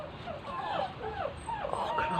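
Behind a fence, a big dog whimpers with a string of rising and falling high-pitched whines over a few seconds. The whines are moderately close, and faint background noise runs underneath.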